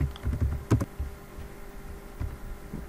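Fingers type an nft command on a computer keyboard running Kali Linux, a close run of soft key clicks in quick irregular bursts with short pauses between them.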